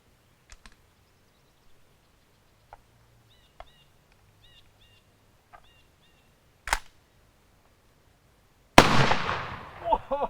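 Old, neglected shotgun shells are fired outdoors, giving one sharp crack followed a couple of seconds later by a much louder blast that rings out and decays, after a stretch of faint small clicks.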